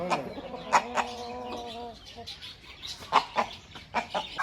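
A hen clucks nearby, starting with a drawn-out, throaty call and then a series of short, uneven clucks.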